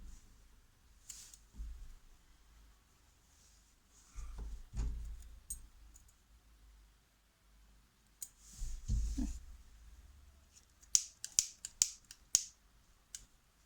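Scissors cut paper to shape a leaf for a palm tree model, quiet and close, with soft handling rustles and a quick run of crisp snips toward the end.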